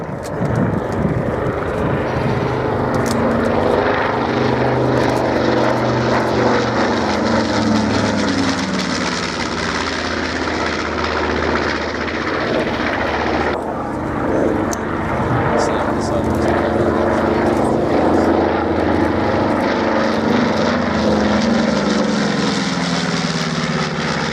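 A WWII propeller aircraft of the kind flown by the Royal Air Force in the Normandy campaign, droning steadily overhead at Shoreham Airshow, loud and continuous with a shifting engine tone while a commentator talks throughout.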